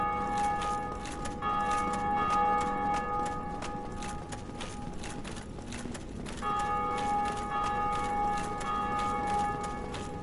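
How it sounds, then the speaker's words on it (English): A sustained metallic ringing tone from a bell rung by another player in Dark Souls Remastered, holding under a busy layer of rhythmic game clatter, dropping out for a moment midway and then returning for the rest. "There's another player ringing the bell."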